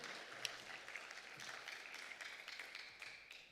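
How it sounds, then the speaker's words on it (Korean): A church congregation at a prayer-house service applauds, giving a soft, steady wash of many hands clapping at a distance, holding for several seconds before tapering slightly. "하나님께 영광의 박수 올리시기 바랍니다"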